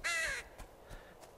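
A single crow gives one loud, harsh caw in the dark forest of the game Betrayer, followed by a few faint, distant echoing knocks.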